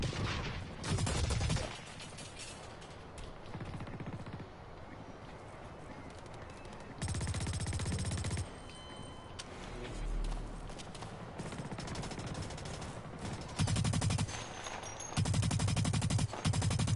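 Rapid bursts of gunfire in the shooter video game Blacklight, repeated volleys and single shots recurring throughout at moderate loudness, with no speech.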